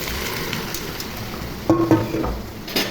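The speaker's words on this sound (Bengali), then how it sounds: "শাকটা নেড়ে চেড়ে ভেজে নিব" Bottle gourd greens stir-fried with onion and green chili in a pan, a steady sizzling hiss with a few louder scraping stirs near the end, close and without talk.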